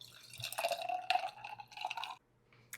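Homemade cold brew coffee pours into a glass in a close, trickling stream lasting about two seconds, with splashy liquid texture and a faint steady hum underneath, then the flow stops into near silence.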